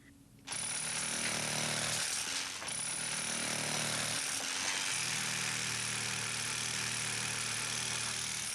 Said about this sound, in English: I'm just going to chisel around the back of your head, Gavin.